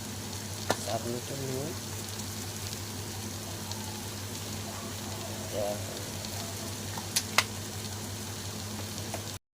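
Cumin powder, coriander powder and salt fry in a pan for a potato dish with a low, steady sizzle, broken by a couple of sharp taps and faint spoon movements.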